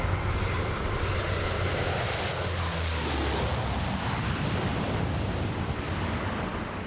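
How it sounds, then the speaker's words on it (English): A fixed-wing airplane comes in to land on a road during a film stunt, its engine roaring loud and steady throughout with no voices. "We are now going to bring the plane into land."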